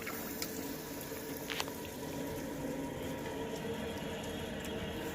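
A toilet cistern refills through a newly fitted fill valve, giving a steady, continuous rushing hiss of incoming water with faint bubbling, moderately quiet and close, with no voices.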